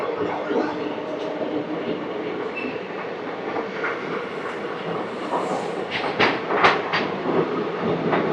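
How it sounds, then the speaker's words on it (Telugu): The Machilipatnam to Visakhapatnam Express rumbles along continuously near Pithapuram with rhythmic clickety-clack from the wheels and occasional sharper metallic clanks. "పిఠాపురం స్టేషన్ నుంచి కూడా మన ట్రైన్ అయితే స్టార్ట్ అయిపోయింది."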